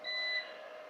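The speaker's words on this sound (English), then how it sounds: "The beeping has increased, so I guess it's saying, hey guys, I'm about to shut down." An electronic low-battery warning gives a single thin, high, steady beep that fades into a faint hum, heard close and quiet with nothing else around it.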